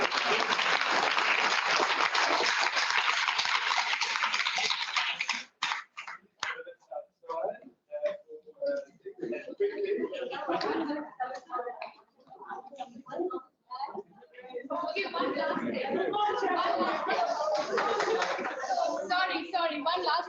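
Loud audience applause at a public launch event starts as a dense roar, thins into scattered claps and talk, then swells again into full clapping.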